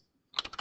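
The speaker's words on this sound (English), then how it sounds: "Here, I'm going to type." Computer keyboard typing: a quick run of about six crisp key clicks after a brief silence, close and clear.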